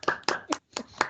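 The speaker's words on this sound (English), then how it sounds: "So big round of applause to Caden." A handful of hand claps, about five sharp bursts in just over a second, sounding like one or two people clapping close to a microphone on a call, celebrating a top fundraiser.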